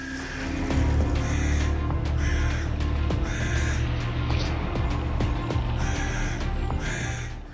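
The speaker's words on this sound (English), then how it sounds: "They not only call out, but also attack the monitor lizard's hearing with deafening sound frequencies" Loud, harsh bird calls repeat in rapid bursts, close and insistent, several birds cawing over one another in a continuous scolding chorus, mobbing a monitor lizard near their nest.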